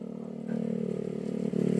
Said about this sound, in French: Attention, il y a une moto.